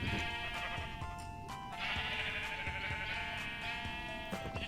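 Sheep in Minecraft bleat repeatedly and close by, several overlapping calls in quick succession over a steady game background, with no talking.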